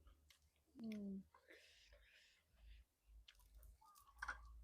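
Crunchy food being chewed up close, soft crisp bites and mouth noises mixed with faint whispering and quiet talk, on a New Year meal of soy-marinated salmon with spicy dipping sauce.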